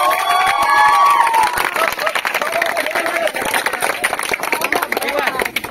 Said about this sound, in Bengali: প্রত্যেকের জন্য একটা জোরে হাততালি